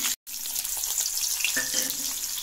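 Chopped onion hits hot oil and fries with a loud, continuous close-up sizzle after a brief silent gap, a steady hiss with light crackles throughout.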